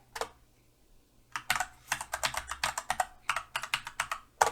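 Password typed on a computer keyboard while managing a home server, heard as a quick burst of close, crisp keystrokes after a brief pause, then a steady run of clicks.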